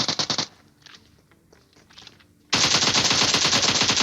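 Automatic weapons fire in a battle royale video game: a rapid burst at the start, a quieter lull with distant shots, then a loud sustained stream of close gunfire to the end.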